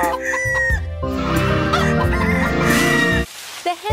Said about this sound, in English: The hens are sated now and ready to lay eggs.